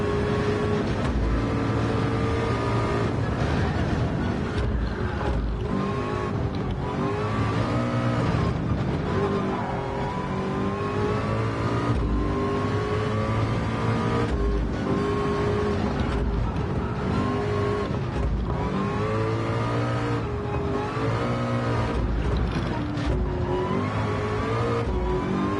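Race car engines at Le Mans in a VR racing video game, a continuous loud engine note rising and falling through revs and gear shifts over a long stretch, with no talk.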